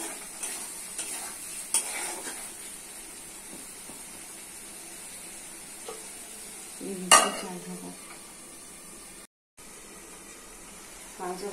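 Meat stir-fried with spices and bay leaves in a pan, a steady close sizzle with a few brief spatula scrapes and clinks against the pan.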